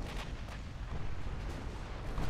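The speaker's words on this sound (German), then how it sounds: "Torpedo-Explosion" Torpedo explosion in the naval combat game Ultimate Admiral Dreadnoughts: a muffled, rumbling boom with a low roar that lingers for a couple of seconds, heard fairly faint.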